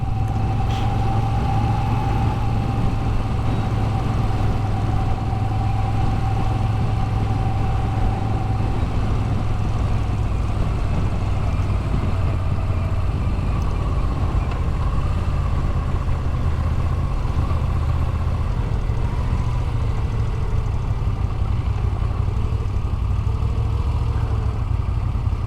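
A Moto Guzzi V7 motorcycle engine running on a countryside ride, a loud continuous low rumble with steady road and wind noise throughout, no talk.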